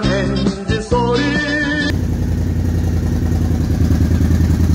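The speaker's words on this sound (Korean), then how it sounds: "불어찬 엔진 소리" A Royal Enfield Himalayan motorcycle engine runs steadily nearby, a loud, continuous idle rumble with a dense rhythmic pulse, preceded by a short burst of mixed noise before the engine sound takes over.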